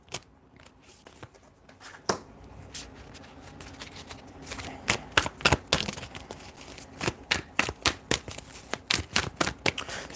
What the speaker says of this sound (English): Give me a chance to go ahead and just kind of pull the cards out.